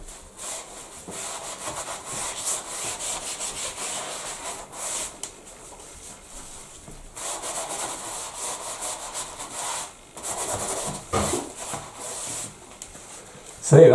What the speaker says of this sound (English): I'm just going to wipe over that area now.